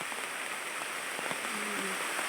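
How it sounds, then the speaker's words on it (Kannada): Steady rain falls on an areca nut plantation in a constant dense patter that fills the scene, with no talk. "ನೀರು ತುಂಬ ಬರ್ತಿದೆ. ಮಳೆ ಬಂತಲ್ಲ"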